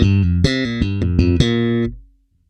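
Slap bass riff played with hammer-ons and pull-offs, a quick run of about ten loud, sharply attacked bass notes in a syncopated rhythm before the final note is cut off into silence.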